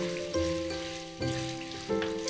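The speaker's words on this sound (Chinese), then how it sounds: "等到油温上来下肉丝， 快速滑炒，用筷子搅散" Shredded pork stir-frying in hot oil sizzles loudly and steadily in a wok, with a few sharper bursts as the meat is stirred apart, and no voices over it.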